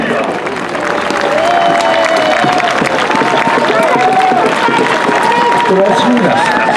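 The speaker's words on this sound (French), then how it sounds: "Les compagnies qui ont combattu ici, on peut les applaudir" Crowd applause for the fighting companies at an outdoor medieval knights' mêlée tournament in Biot, a steady dense clatter of clapping with cheers and voices mixed in throughout.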